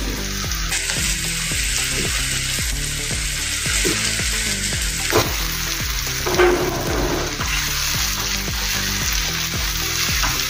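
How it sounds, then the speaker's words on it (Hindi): Moong dal paste hits a hot pan and cooks with a dense, continuous sizzle. Stirring scrapes come through along with a steady rhythmic clatter, all close and loud, with no one talking. "अभी इसमें हम जो पेस्ट तैयार किया था दाल का वो इसमें डाल देंगे।"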